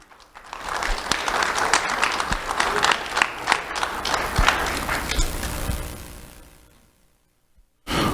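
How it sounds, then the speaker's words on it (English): An awards ceremony crowd applauds for a young winner, a full wash of clapping that swells, holds for several seconds, then fades to near silence before a brief loud burst at the very end. "Round of applause for Marilee."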